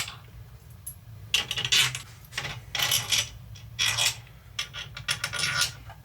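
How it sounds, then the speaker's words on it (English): Metal washers are slid onto battery terminal bolts in a raw-cell battery build, making a series of short, bright metallic clinks and scrapes in irregular bursts, close by. "So now I can put my washers on."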